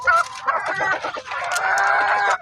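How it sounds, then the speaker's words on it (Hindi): Chickens cluck and call loudly and close by in a backyard coop where hens sit to lay eggs, with overlapping, busy vocalizations. "ये मुर्गी हमारी अंडा देने के लिए बैठी है और वो उतर गई"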